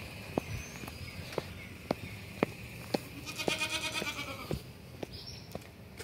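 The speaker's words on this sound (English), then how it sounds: "So we got the goats." Goats at a petting zoo, with one drawn-out wavering bleat from close by, amid sharp intermittent clicks and taps from hooves or handling and no talking.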